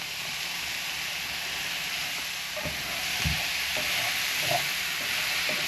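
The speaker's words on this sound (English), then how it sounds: "Now I'm going to add my mushrooms." Mushrooms sizzle in a hot pan for a chicken stir fry, a steady close frying hiss with a few soft clinks and stirring knocks partway through.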